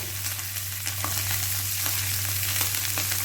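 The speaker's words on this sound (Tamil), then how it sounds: "ஃபிஷ்ஷை வந்து ஒன்று ஒன்றா போட்டுக்கலாம்" Sardines fry in hot oil in a pan with a loud, dense, continuous crackling sizzle and occasional spatters, close up and steady, with no voices.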